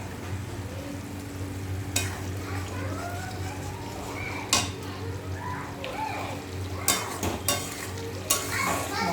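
A spice masala with Kashmiri chili powder sautéing in a pan: steady sizzle with stirring scrapes and a few sharp clatters, while people speak and children can be heard in the background.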